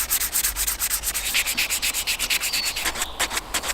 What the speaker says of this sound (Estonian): Mis sa sellest arvad, kas ma võin nüüd ära lihvida?